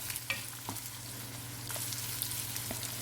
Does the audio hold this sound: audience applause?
no